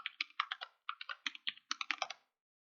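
Quick bursts of keystrokes on a computer keyboard as a passphrase is entered, close and clear, with short pauses between clusters of taps before stopping.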